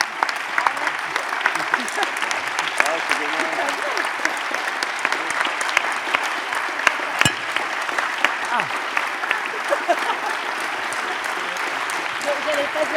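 An audience at a talk on avoiding burnout breaks into sustained applause, a dense, even wash of many clapping hands that lasts throughout and stays loud and close.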